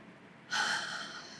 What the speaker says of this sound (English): the first one is taking deep breaths